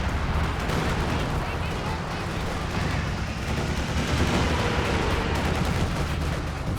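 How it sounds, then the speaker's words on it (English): A Katyusha rocket barrage in Company of Heroes 2, a continuous dense rumble of launches and explosions that stays loud and rolling from start to end. "in comes a fresh Katyusha barrage"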